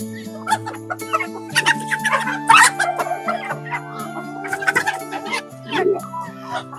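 Chickens on a free-range farm cluck and squawk close by in a busy, irregular stream of calls, with a person talking among them.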